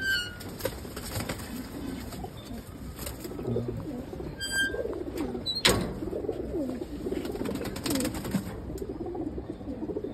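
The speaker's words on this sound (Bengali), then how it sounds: "এই যে একটা মাদি কবুতর," Pigeons at an old Dhaka pigeon loft, a female among them: low coos sit under bursts of flapping wings and a few sharp clacks, busy and fairly close throughout.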